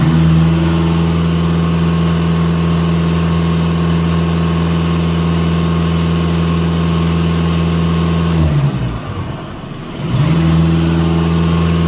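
Diesel engine of a VW Passat B8 or Skoda Superb 3 with a warmed-up particulate filter, idling steadily and loudly close up, then a brief throttle blip with a dip and recovery near the end; no talk.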